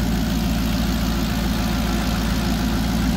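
A 2013 Maserati GranTurismo MC with its V8 engine idling, a steady, loud, even rumble held close by with no change in pitch and no talking.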